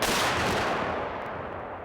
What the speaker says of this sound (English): The men at the rear of the gun prime the piece and fire the piece.